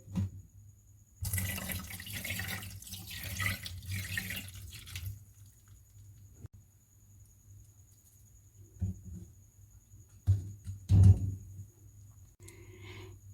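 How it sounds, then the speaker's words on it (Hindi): Room-temperature water splashes and trickles intermittently over sago in a strainer in a quiet kitchen, with a few louder pours and drips near the end. "और ऊपर से रूम टेम्परेचर पानी डाल देंगे।"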